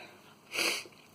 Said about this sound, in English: I think I'm going to sneeze again